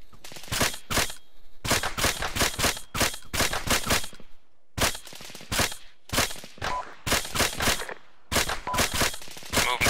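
Bursts of automatic gunfire from an Arma 3 Navy SEAL co-op battle, loud, close volleys in rapid rhythmic strings separated by short pauses, with faint voices underneath.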